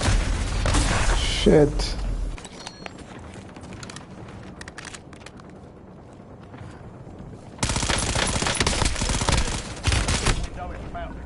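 Gunfire in Call of Duty: Warzone, bursts of rapid automatic shots and heavy booms, loud at the start, quieter scattered cracks in the middle, then another dense volley, with a voice talking and swearing in between.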